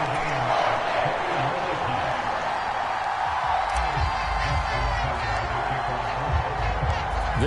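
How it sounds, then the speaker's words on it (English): A large football stadium crowd roars steadily in the fourth quarter after a tying touchdown, a dense, loud wall of cheering that swells partway through with heavy low rumble. "This crowd alive again."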